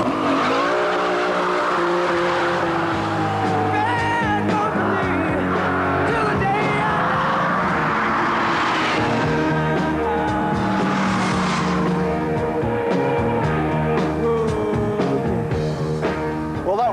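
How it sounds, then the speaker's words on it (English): A Lamborghini Diablo with a 5.7-litre V12 accelerating hard on a racetrack, loud rising engine notes climbing through gear changes, close and sustained with brief tyre squeal, unbroken throughout. "What I am going to do is demonstrate just how fast the Diablo accelerates."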